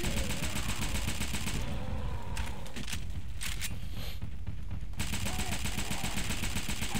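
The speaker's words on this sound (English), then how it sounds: "I have a freaking machine gun" Machine gun fire in the Left 4 Dead 2 video game: loud rapid bursts of automatic gunfire, briefly interrupted mid-clip, then resuming, with game noise throughout.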